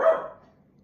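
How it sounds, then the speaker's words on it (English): One short, close bark from the pet dog Cushy, loud at first and quickly fading with a brief tail. "you will probably occasionally hear my dog Cushy in the background"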